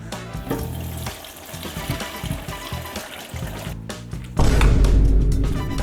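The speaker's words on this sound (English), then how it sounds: "The next step is just to strain everything into the broth itself." Thick, oily bone broth strained from a pot: a continuous close liquid pour and slosh with some clatter, swelling into a heavier, louder gush near the end.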